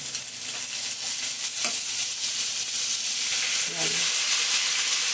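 Sisig frying in a hot pan, giving a loud, steady sizzle with faint stirring scrapes, and a brief word spoken over it.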